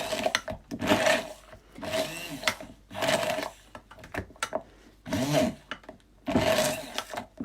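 A Bamix hand blender blitzing 100 grams of vegan chocolate with 100 grams of milk, running in about five short whirring bursts separated by brief pauses, close and loud with no talking.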